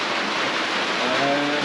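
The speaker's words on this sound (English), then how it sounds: "You can see the rain hitting the lake." Steady rain hisses in a dense, even patter across a clear lake in Kazakhstan, soft and continuous with no voices.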